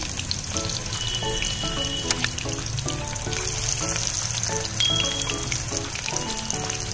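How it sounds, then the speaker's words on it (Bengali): Small shrimp pakoras in batter fry in hot oil over a medium flame, giving a steady, even sizzle and crackle throughout, with soft background music playing underneath. "প্রথমে তেলটা গরম হয়ে গেছে, এবার স্লো আঁচে একটু দিয়ে দেবো"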